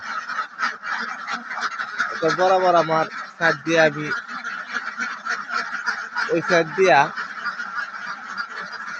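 Egg-laying ducks quack and honk in loud bursts, with a cluster at first and another later on, while someone talks steadily over them.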